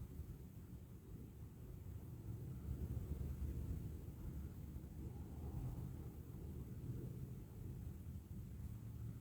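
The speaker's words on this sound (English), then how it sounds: "The wind is picking up too, I can hear it." Wind gusting outdoors beside a snowy road, a steady low roar and buffeting against the microphone that swells slightly, with no voices.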